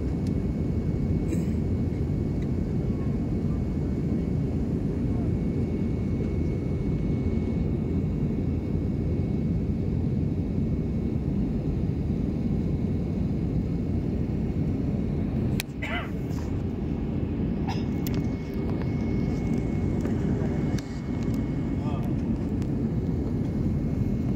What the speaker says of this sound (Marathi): आता हे विमान पुणे एअरपोर्टच्या दिशेने चाललेले आहे